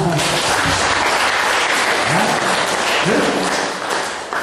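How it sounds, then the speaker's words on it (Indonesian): Audience applause during a spiritual talk by Gede Prama, a brief dense burst of clapping that fades near the end, with a faint voice underneath. "Tepuk tangan."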